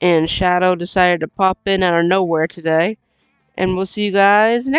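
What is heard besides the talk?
No everyday noise stands out behind the speech.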